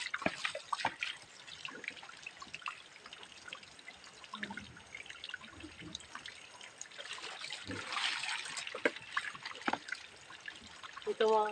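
Water running from an outdoor tap with no shutoff during hand-washing of laundry, a faint steady trickle and splash with scattered drips and clatter, heard close.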